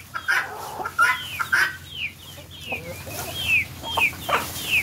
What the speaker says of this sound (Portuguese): O silêncio é quebrado com a cantoria deles. Dos guinés.